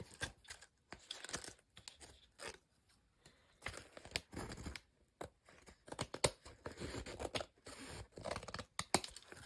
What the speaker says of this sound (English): Going to take our scissors, nice and sharp, and we're just going to trim that.